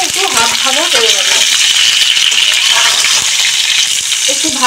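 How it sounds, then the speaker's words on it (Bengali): Potatoes and eggplant sizzle steadily as they fry in a pan, a loud continuous crackle with occasional stirring scrapes, while someone talks over the cooking. "বেগুনগুলো একটু হাফ ভাজা করে নেবো"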